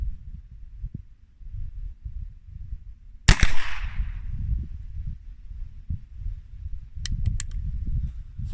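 A single sharp gunshot from an 1851 Navy black-powder revolver at an outdoor range, loud and close, with a brief decaying tail over low wind rumble, followed later by a few faint clicks.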